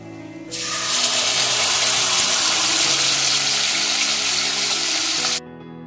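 Ground spice paste hitting hot oil already crackling with whole cloves, cardamom, cinnamon and a bay leaf for a prawn curry, erupting into a loud, sustained close sizzle that cuts off abruptly after about five seconds.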